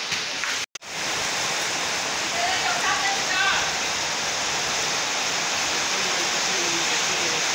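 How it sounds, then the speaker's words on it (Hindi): Heavy rain pours down in a dense, even hiss that continues throughout, broken only by a brief dropout near the start. "बारिश में जाना पड़ेगा दुकान पे, इतना बारिश हो रहा है"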